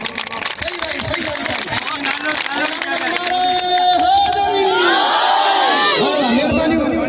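A crowd at a traditional pahalvan wrestling match roars and shouts continuously, voices clamoring together in a dense, loud mass that swells toward the end, with a voice calling out over it.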